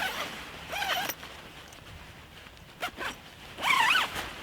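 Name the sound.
zipper of Snugpak Special Forces sleeping bag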